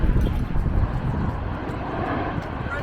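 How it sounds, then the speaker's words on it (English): A low aeroplane passing overhead during a parkrun near an airport, a broad, steady rumbling roar that stays loud throughout, with faint voices in the background. "There's an aeroplane just passing overhead."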